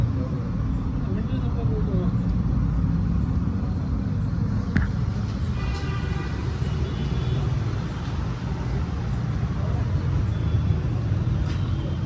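A Tata Punch three-cylinder engine fitted with a CNG kit idles steadily with a low rumbling drone, close by, with a brief higher whine partway through.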